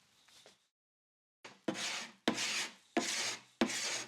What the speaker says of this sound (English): I thought I should just try an area with the scraper alone without using the IR paint stripper